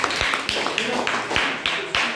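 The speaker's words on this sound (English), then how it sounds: "Clap for your friend." A classroom of students clapping for a classmate's answer, a steady rhythmic applause of sharp, evenly spaced claps repeating at a brisk pace, fairly close and moderately loud.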